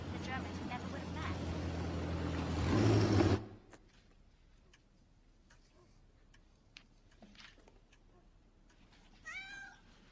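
Moji, a pregnant cat, lets out a meow after a loud stretch of other sound ends, with a faint ticking underneath and quiet surroundings.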